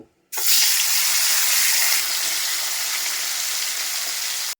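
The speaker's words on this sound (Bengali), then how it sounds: "আমি এখন ইলিশ মাছগুলো ছেড়ে দিব" Hilsa fish pieces go into hot oil in a wok, setting off a sudden loud, continuous hissing sizzle that holds steady until the end, with no talking.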